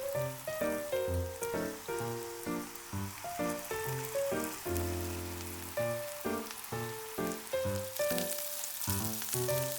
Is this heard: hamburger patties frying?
yes